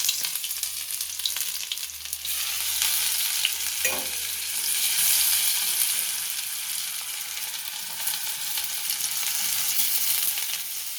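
Chopped ginger, garlic and slit green chillies crackle in hot oil in a home kitchen, a loud, close, continuous sizzle lasting the whole stretch, with no talking.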